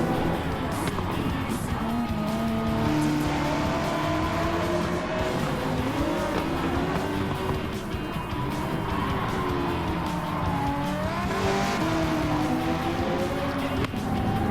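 A race car engine roars continuously in Gran Turismo 7 during a race against a hard CPU opponent, a loud sustained drone with shifting pitch as revs rise and fall, with occasional tire noise and no pauses.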